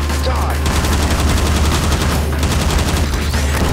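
Continuous gunfire in Garry's Mod during a zombie-infection round aboard a ship, dense overlapping rapid shots with no gaps, loud and close over a low steady hum.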